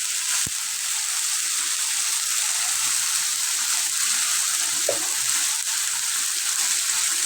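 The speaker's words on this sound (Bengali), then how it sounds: "হলুদ মরিচ দিয়ে দিলাম এখানে এখন মশলাটা ভালো করে হবে" Turmeric and chili powder frying in oil in a pan for a fish curry, producing a loud, steady, close hiss of sizzling with one or two faint knocks, and no talking.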